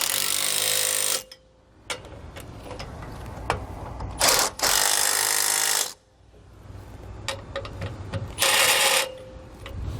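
A power tool drives down the mounting bolts on a Curt round A-frame trailer jack in three loud bursts of whirring and rattling, with quieter clanks and handling noise between them.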